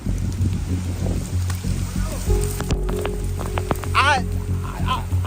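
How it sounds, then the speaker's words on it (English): Heavy rain pours steadily during a Florida tornado storm, a dense hiss of water on surfaces with people talking excitedly over it. "Oh shoot. It's raining hard."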